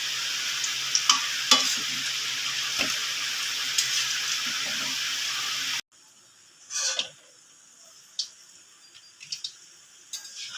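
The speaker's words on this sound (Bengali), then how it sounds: "সবগুলো এবার একইভাবে ভেজে নেব" Vegetarian kebabs fry in hot oil with a steady close sizzle, then the sound cuts to quieter intermittent scrapes and taps of stirring and turning in the pan.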